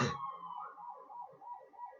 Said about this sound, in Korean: 저 밖에 사이렌 앰뷸런스 소리가 나는데 이 근처에서 아마 앰뷸런스가 왔나봐요